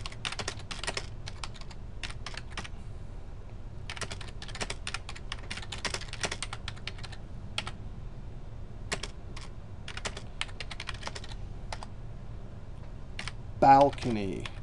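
Close computer-keyboard typing comes in irregular bursts of light clacking keystrokes separated by short pauses, with a brief louder bump near the end.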